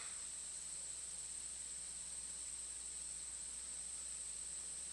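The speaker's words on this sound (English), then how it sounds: "the song of the insects." Insects sing in a constant, high, thin drone that continues without a break under faint background hiss and holds an even level from start to finish.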